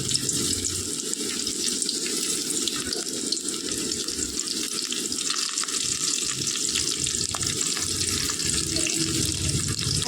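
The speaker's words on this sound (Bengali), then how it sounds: "তৈরি করে নিয়ে সমস্ত জলখাবারগুলোকে ভেজে নেব।" Snacks made from raw potato fry in very hot oil, giving a steady, dense bubbling sizzle that stays close and constant throughout, with no one talking.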